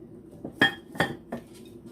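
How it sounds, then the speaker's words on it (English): Lid being set onto a crockpot of chicken and dumplings, giving three quick clinks and clatters of ceramic and metal, close and fairly loud, with no talk. "And then put your lid on."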